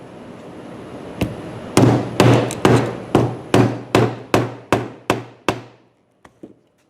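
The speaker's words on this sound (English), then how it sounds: "now we're going to punch some holes in it just like we did with the belt loop so we could get to sewing it" Holes are punched in a leather revolver holster with a run of about ten sharp, loud hammer strikes in a steady rhythm, each ringing briefly, then a few faint taps at the end, close and without talk.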